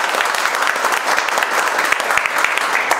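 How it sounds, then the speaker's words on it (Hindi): A room of trainees at a mobile repair training institute bursts into loud, sustained applause, dense clapping with individual sharp claps poking through. "एक बार जोरदार ताली दो।"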